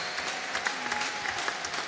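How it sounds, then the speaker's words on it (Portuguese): Applause at a formal ceremony marking the centenary of João Goulart, many people clapping together in a continuous, evenly dense patter with a few louder claps near the front. "o prefeito Rodrigo Neves de Niterói, a quem nós, através de uma salva de palmas, vamos externar nossa solidariedade."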